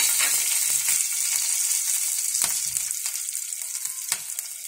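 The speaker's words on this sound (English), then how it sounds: "once the ghee is hot, let's put this cumin seeds. Let's put these green chilies." Cumin seeds and green chilies crackle and sizzle in hot ghee, a steady bright frying hiss with a few sharper pops, close and continuous throughout, no talking.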